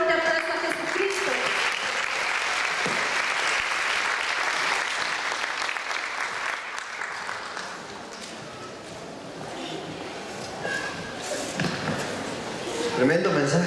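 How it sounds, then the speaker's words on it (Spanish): Congregation at a Sunday church service giving loud, sustained applause, a dense roar of many hands that eases briefly midway and swells again, with voices and some knocks mixed in. "Démosle un fuerte aplauso a Jesucristo."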